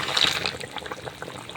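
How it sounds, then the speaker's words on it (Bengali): Fried bori dropped into simmering curry gravy gives a short, soft wet bubbling and splashing that is loudest at the start and fades to faint gurgles. "বন্ধুরা সেই ভাজা বড়িগুলো এখন আমরা ঝোলে ছেড়ে দেবো,"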